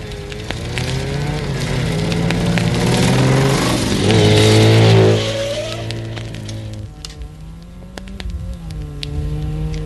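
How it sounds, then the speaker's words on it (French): A motorcycle arrives. Its loud engine whines and shifts pitch as it rises to a revving peak, then drops back to a lower idle drone nearby. "Ah, c'est la dernière moto qui arrive."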